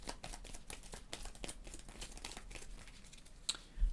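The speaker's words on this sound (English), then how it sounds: "We'll shuffle up the turn order deck." Quick, rustling riffles of a deck of game cards being shuffled, a dense crisp flutter of papery snaps close by, ending with a couple of sharper taps.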